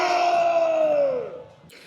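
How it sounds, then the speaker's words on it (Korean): Supporters gathered outside the presidential residence in Hannam-dong, Seoul, letting out a loud collective cheer that holds and then trails off, with a brief burst of noise at the end. "한남동 관저 앞에서 환호하던 지지자들"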